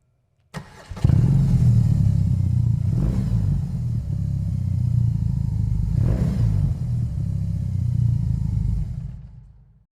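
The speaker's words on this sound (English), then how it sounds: "So the Boxer engine means life." A 2020 BMW R18 First Edition boxer engine starts and settles into a deep, throaty idle with a couple of brief revs, close by, before cutting off.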